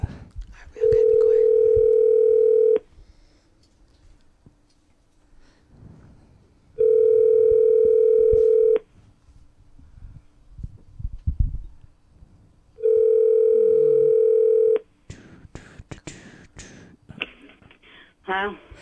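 Three long, steady ringback tones pulse on a telephone line, each lasting about two seconds and separated by pauses, followed by a quick burst of dialing tones, with faint talk and line noise in between.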